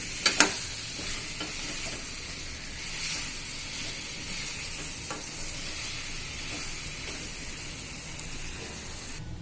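Masala-coated chicken pieces fry in a pan with a continuous near hiss and sizzle. A couple of sharp clatters from the utensil come at the start, followed by faint stirring scrapes, and no talking.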